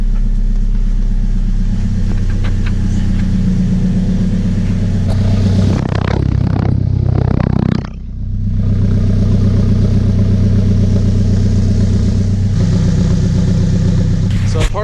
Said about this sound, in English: Part of the sports exhaust is that it actually has no muffler whatsoever. So it's somewhat loud.